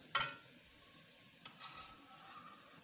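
Meat sautéing in a pan for a lasagna, with a faint steady sizzle and a sharp stir or scrape near the start and another soft clatter midway. No one speaks.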